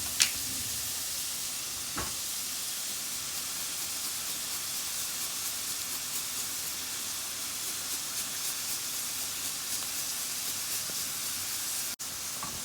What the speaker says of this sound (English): I'm going to grate my fresh clove of garlic in here.